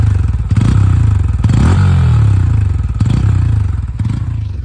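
A 2024 Bajaj Pulsar N160 motorcycle engine revs up and down at close range, loud throttle blips with a rising and falling pitch, no voices.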